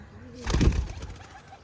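A large pet breeding hen pigeon coos once, a low swelling call up close, rising and fading over a second or so with faint background noise.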